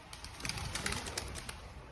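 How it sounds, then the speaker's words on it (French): Pigeons take off together near a record shop, a soft, faint flurry of flapping wings with a light coo in the background. "Des pigeons qui s'envolent."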